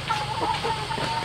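A chicken clucks close by in a rural Vietnamese home, giving a quick series of short clucks with no talk over them.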